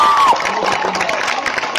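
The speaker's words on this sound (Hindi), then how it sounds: "आप लोग तालियां बजा के इसकी हिम्मत को सलाम कीजिए।" A crowd at an Aligarh Muslim University student rally, held after a police lathi charge, cheers and applauds in a dense, steady wash of clapping and shouts that fills the whole moment.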